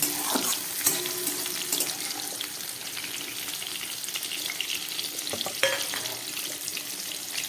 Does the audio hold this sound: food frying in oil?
yes